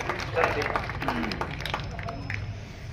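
Audience clapping to welcome an invited guest at a community mahapanchayat gathering, a dense, steady patter of many hands under crowd murmur and talk.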